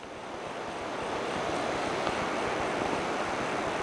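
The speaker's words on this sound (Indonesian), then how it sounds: "ini anginnya kencang teman-teman" Strong wind roars steadily against the microphone outdoors at night, a dense, continuous rushing gust with no talk over it.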